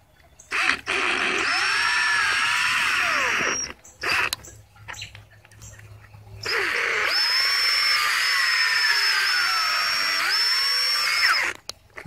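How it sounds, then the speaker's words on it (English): A power drill with a 1-inch bit whines loudly as it bores a hole in two long bursts, separated by a short pause with a few clunks and handling noises. "I have a 1-inch drill bit over here. I'm just gonna make a hole over here."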